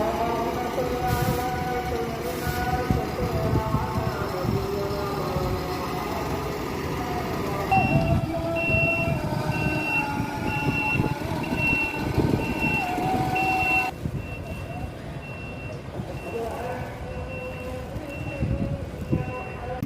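A new SETC Volvo multi-axle AC semi-seater bus rumbles as it moves, heard from the cabin, with a steady run of reversing beeps coming in partway through. People talk over the engine noise.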